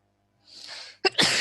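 A single close, sharp sneeze during an online maths class: a breathy intake builds for about half a second, a short pause, then an abrupt explosive burst.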